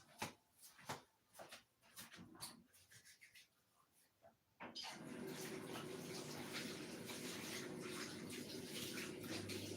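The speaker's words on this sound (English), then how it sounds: "I'm gonna wash my hand and then we're gonna serve the pizza." Hands are washed under a running kitchen tap: some faint rubbing and knocks come first, then the water gushes in a steady, close stream that continues to the end.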